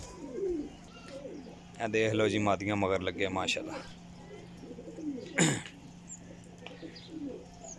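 Breeder and flying pigeons coo in a loft during a pigeon sale, soft repeated coos under a voice talking over them, with a sharp flutter midway.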